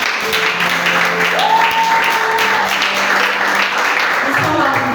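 A church congregation applauds and acclaims the Lord, sustained dense clapping mixed with voices and shouts filling the room at a steady loud level.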